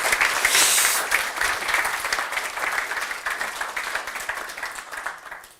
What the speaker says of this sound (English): Please join me in a warm hand of applause for Eric